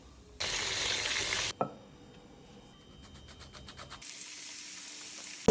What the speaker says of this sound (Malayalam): വെജിറ്റബിൾസ് ഇച്ചിരി വെളിച്ചെണ്ണയിൽ ഒന്ന് സോട്ട് ചെയ്തെടുക്കുക